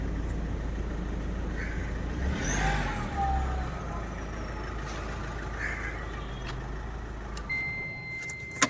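A Mahindra Scorpio with the mHawk diesel engine drives along with a steady low engine drone and road rumble, briefly rising as it revs, with faint interior rattles heard from inside the cabin.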